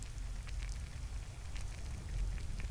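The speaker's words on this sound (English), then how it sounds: "given that it is raining and thundering and being very, very nasty out?" Steady rain patters on surfaces during a storm in The Elder Scrolls, a constant close hiss with low rumbling underneath and no distinct thunderclap standing out.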